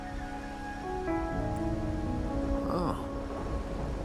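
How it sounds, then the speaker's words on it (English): Steady rainfall in the Wuthering Waves video game, a constant even hiss of rain over soft music, with a brief spoken exclamation midway. "are you simply passing the time until the rain ends?"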